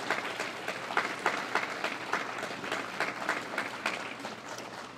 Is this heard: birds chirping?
no